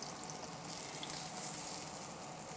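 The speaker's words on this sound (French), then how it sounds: "on les fait griller de chaque côté dans l'huile d'olive de bonne qualité" Eggplant slices sizzle steadily in good-quality olive oil, grilled side by side for an aubergine parmigiana; a continuous, even hiss and crackle fills the scene with no break and no talking.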